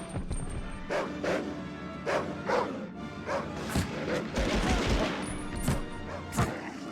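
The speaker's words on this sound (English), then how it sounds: "I might have shot that dog in the face, but that one's alive." Gunfire and a dog's barks and yelps in a video game, with repeated sharp shots and impacts over a busy layered soundscape, fairly loud throughout.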